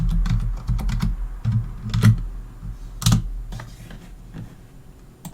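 Irregular clicks and clacks of fingers typing on a keyboard, close by, in short bursts with brief pauses and no talking.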